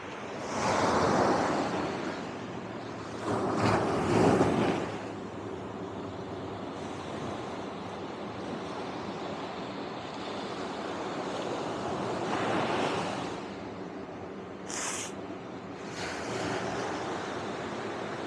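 Cold Pacific Ocean surf washing onto a Mendocino County beach, with several louder swells breaking over a steady wash and some wind buffeting the microphone; no talking.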